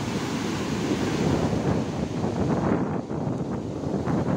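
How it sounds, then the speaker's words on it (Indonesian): Big surf pounds the shore at high tide on Damas Beach in Karanggandu, Watulimo, Trenggalek, as strong wind buffets the microphone: a loud, continuous roar of breaking waves and gusts with no letup. "Air laut lagi pasang, ombak cukup besar, angin juga cukup kencang."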